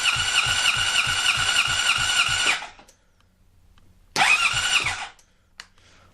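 Starter cranking a Honda CBR600RR four-cylinder motorcycle engine during a compression test, two bursts of rapid rhythmic churning with a high whine, about two and a half seconds then a shorter second try, close and loud with no talk.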